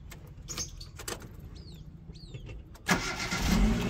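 A car engine cranking with a few short bursts, then catching and settling into a steady idle close by, with some clicks and clatter before it starts.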